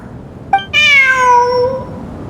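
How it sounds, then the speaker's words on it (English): A cat in the video game Genshin Impact gives a short chirp, then a long, loud, drawn-out meow with a falling pitch, and starts another call at the very end. "Look! A cat!"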